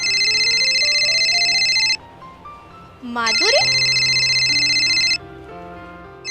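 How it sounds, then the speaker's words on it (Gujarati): An incoming call rings on a phone indoors as a loud, repeating electronic ringtone with bright beeping tones, pausing briefly while a voice calls out a name, then resuming before cutting off. "આ તો તમને જાણ કરતી હતી કે ફોન આવ્યો છે"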